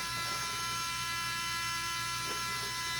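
Horizontal spinner weapons on the combat robots Eclipse and Catastrophic whir up to speed in an arena, a steady high electric buzz with a constant tone under it that holds throughout.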